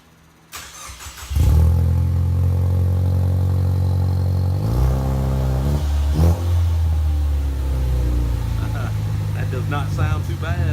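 A 2015 car fitted with a turbo Y pipe and no mufflers starts up and revs loudly and close, with a steady rumbling idle between sharp rises in pitch and a faint turbo whistle.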